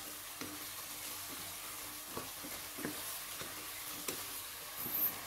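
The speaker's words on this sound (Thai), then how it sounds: "ผัดอีกเล็กน้อยให้ทุกอย่างสุก" Pork neck is stir-fried in a pan with curry paste, shredded kaffir lime leaves and red chili, giving a soft, steady sizzle with faint scraping stir strokes and no talking.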